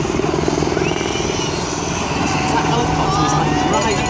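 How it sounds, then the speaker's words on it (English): A helicopter circling over the Tour de France 2014 Stage 2 at Woodhead Pass, its steady rotor drone filling the air continuously, fairly loud overhead, with people talking faintly underneath. "Helicopter, circling."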